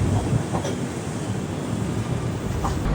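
Jamnagar–Tirunelveli Express running late as it rolls into Kozhikode station, a steady, moderately loud rumble of train wheels and carriages with faint clacking, no voices.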